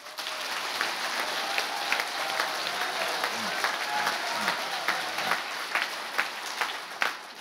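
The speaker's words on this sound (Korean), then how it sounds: "그 합의를 이뤄낸 장본인인 밥 스위프트 변호사가 여기 와 계십니다. 박수 부탁합니다." Audience in a Korean National Assembly forum hall applauding to welcome lawyer Bob Swift, a steady mass of clapping lasting the full stretch with a few louder claps near the end and faint voices underneath.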